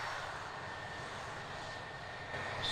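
The Solo Turk display aircraft's engine drones as a steady, fairly distant roar at an air show, continuous and unbroken with no voices.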